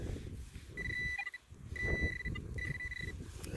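Metal detector sounding over a buried target at an 1800s homesite, giving repeated steady electronic beep tones in short bursts over an outdoor background hiss.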